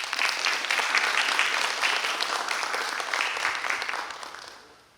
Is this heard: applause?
yes